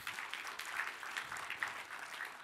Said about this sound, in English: give Jesus a hand clap of praise if you love him.